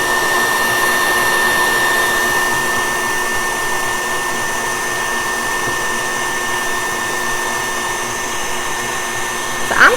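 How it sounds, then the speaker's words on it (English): An electric stand mixer whirs steadily while beating boiled icing for a devil's food cake, a constant close motor drone running without pause for the whole stretch. "So I'm going to stop my mixer, and I'm going to lift it up so that you can see it."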